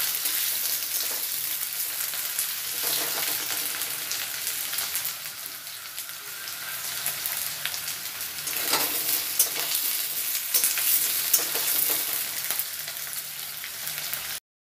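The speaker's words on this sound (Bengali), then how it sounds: "আলুগুলো ভাজা হয়ে গেছে" Thinly sliced, long-cut potatoes fry in a pan, giving a steady, fairly loud hiss and crackle with occasional stirring, heard alone throughout.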